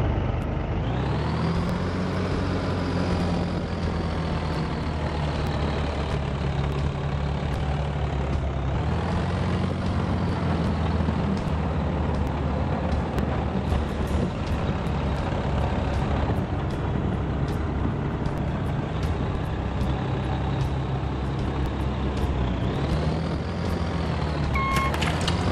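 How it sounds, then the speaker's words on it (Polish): Modded tractor engine sound in Farming Simulator 2014, a steady loud diesel drone with revving rises and falls throughout, alone with no talk. "Więc wsiadamy do pierwszego traktora."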